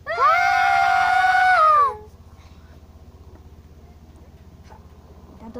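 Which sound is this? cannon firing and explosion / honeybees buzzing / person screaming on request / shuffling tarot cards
person screaming on request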